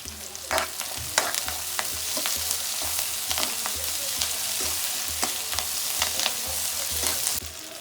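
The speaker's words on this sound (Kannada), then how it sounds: "ಈಗ ಹಸಿ ಮೆಣಸಿನ್ಕಾಯಿ ಹಾಕ್ತಿದ್ದೀನಿ" Green chillies sizzle in a hot pan of oil for okra curry, a steady bright frying hiss with intermittent scraping stirs and small crackles throughout.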